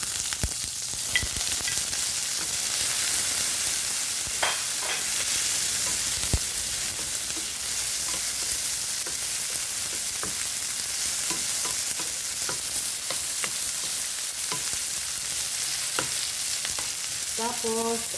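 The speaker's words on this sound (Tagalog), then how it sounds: "Magisa ko og mga lamas" Garlic and spices sauté in a pan for a squid and bitter gourd dish, a steady close sizzling hiss with occasional crackles and stirring clatter throughout.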